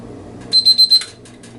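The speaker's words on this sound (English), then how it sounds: "the beeping of the oil thermometer" A generic oil thermometer temperature probe sounds its alarm, four quick high-pitched beeps in an even rhythm, close and clear over a quiet kitchen background.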